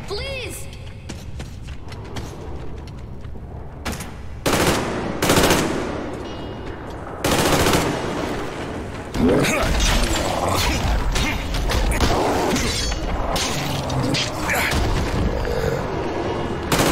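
Big gun firing in Metro Exodus, loud bursts of rapid gunfire and mechanical clatter starting a few seconds in and continuing in heavy stretches, with voices talking over parts of it.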